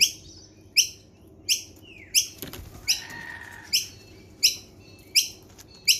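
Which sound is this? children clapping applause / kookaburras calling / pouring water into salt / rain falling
kookaburras calling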